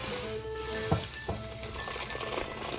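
Pasta cooking in a pan with beaten egg and parmigiano: a steady close sizzle and frying crackle with occasional stirring knocks, no talking.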